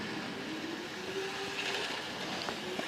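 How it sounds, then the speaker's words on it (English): A model railway train runs on its track with a steady rumbling roll and faint clicks, continuous and fairly close, with no talking. "Might be a heavy train."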